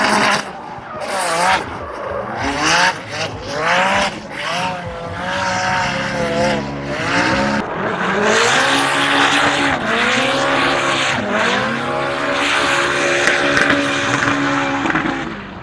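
Race cars drifting at a Formula Drift event, loud engines wailing up and down through rapid gear changes with screeching tires, continuous and close.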